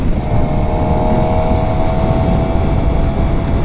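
A 2013 Suzuki GSX-R 750 motorcycle engine running, a steady, loud droning hum mixed with wind buffeting, continuous through the short stretch with no talking.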